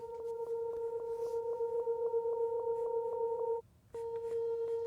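A delay effect pushed toward full feedback self-oscillates into a steady pulsing tone. The pitched repeats stutter rhythmically, cut out briefly near the end, then resume, loud and alone with no talking.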